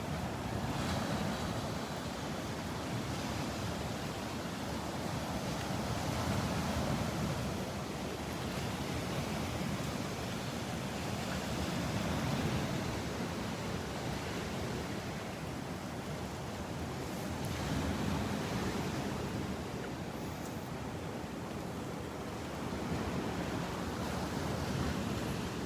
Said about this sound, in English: The waves breaking on the beach.